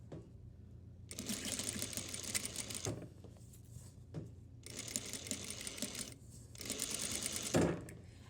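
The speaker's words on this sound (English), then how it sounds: "I'm gonna not sew a backstitch just so you can see why you need to sew a backstitch" A domestic sewing machine stitches a plain seam without backstitching, running in three rapid, buzzing bursts separated by short pauses, close and fairly loud with no talking.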